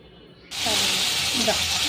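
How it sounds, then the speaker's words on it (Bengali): Okra stirred into hot spiced oil in a frying pan for a dried-fish okra dish: after half a second of quiet, a loud, dense sizzling hiss starts abruptly and holds steady, with faint murmuring underneath. "এখন আমি দিয়ে দিলাম ঢেঁড়সগুলো ঢেঁড়সগুলো মশলাটার সাথে ভালো করে এখন নাড়াচাড়া করে নিচ্ছি"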